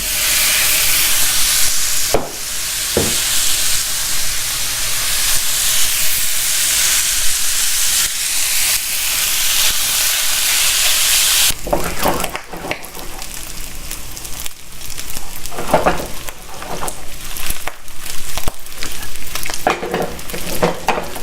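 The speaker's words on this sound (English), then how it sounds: "So to this pan, we're going to add 1 pound of sliced bacon. This is peppered bacon, thick sliced, and just dump it right in." Thick-sliced peppered bacon, a pound of it, frying in a pan with a loud steady sizzle and hiss, broken by a few stirring scrapes and clatters that grow busier later on.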